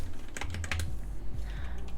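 Rapid keystrokes tap out code on a computer keyboard while working in Roblox Studio, a close, clicky burst of typing with a short pause before a few more keys.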